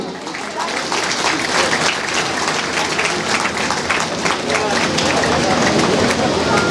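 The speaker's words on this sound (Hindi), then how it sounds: "उनके स्वागत में तालियों की गड़गड़ाहट हो" Audience applause welcoming Bihar's deputy chief minister at a Barauni Dairy plant event, a thick continuous roar of clapping that holds loud and even throughout, with some voices mixed under it.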